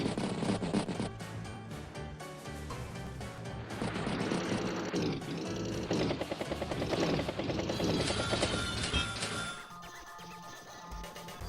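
A Battlecopter helicopter unit in Advance Wars by Web, a buzzing rotor whir mixed with game music and effects, steady and fairly loud before fading near the end.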